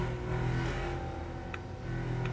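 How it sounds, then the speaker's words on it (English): Car engine in a racing-style video game, a steady loud droning hum with a noisy, rough tone and slight rises in revs, heard alone without talk. "It's a very noisy car."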